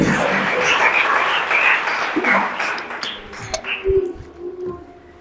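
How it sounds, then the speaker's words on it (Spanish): A church congregation applauds in a loud burst of clapping that thins out and fades after a few seconds, leaving scattered taps and stray noises. "¿Cuánto dan un fuerte aplauso a aquel que vive?"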